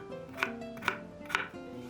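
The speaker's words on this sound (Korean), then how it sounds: "작은 감자 2개 깍둑 썰기 해주세요." A knife dices small potatoes on a cutting board, three sharp, evenly spaced chops ringing out close and clear in a quiet kitchen.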